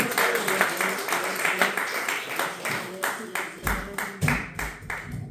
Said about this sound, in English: Give it up for Mo Green.